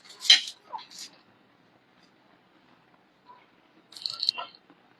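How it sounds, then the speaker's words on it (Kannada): A knife cuts through crispy bread in two short, close bursts of crunchy, scratchy sawing, separated by a quiet pause. "ಕ್ರಿಸ್ಪಿಯಾಗಿದೆ ಬ್ರೆಡ್ ಕಟ್, ನೀವು ಕೇಳಿಸ್ಬೋದು ಸೌಂಡ್ ಕಟ್ ಮಾಡುವಾಗ ಎಷ್ಟು ಕ್ರಿಸ್ಪಿಯಾಗಿದೆ ಅಂತ"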